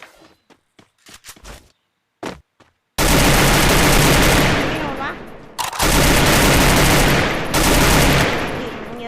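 In the video game Free Fire, loud, sustained bursts of rapid automatic gunfire dominate, after a few sparse shots and short pops, with a brief pause before the firing resumes.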